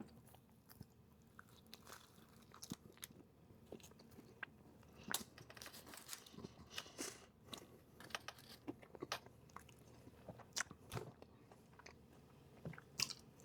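Chewing a Papa John's oven toasted sandwich, close crunchy bites and irregular mastication sounds scattered quietly across the quiet stretch, with no talking.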